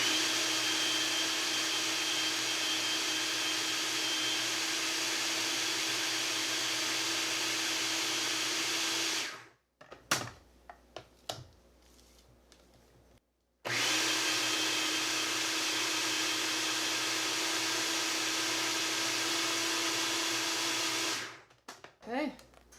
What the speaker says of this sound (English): blend this up really good till there's no graininess left.